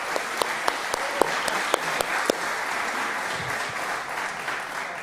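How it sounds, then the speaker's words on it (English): An audience at a volunteer awards event claps steadily for itself, a broad wash of applause with a few sharp, distinct claps standing out early on, moderately loud and continuous. "I think you should give yourselves a round of applause."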